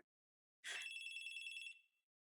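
A telephone bell rings once in a short, bright, rattling burst lasting about a second, clear and isolated against silence.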